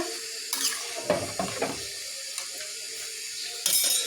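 Potatoes are rinsed under a running tap, a close steady stream of water with a few sharper splashes and knocks as they are handled. No one speaks.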